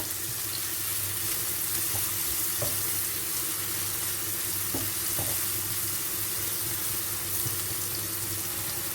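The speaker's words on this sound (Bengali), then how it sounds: "তো আমি এখানে পেঁয়াজটাকে একটু নেড়ে ছেড়ে দেবো।" Onions frying in a pan, with garlic and ginger soon to follow, give off a dense, steady sizzle with a few faint stirring knocks, close and even throughout, with no voices.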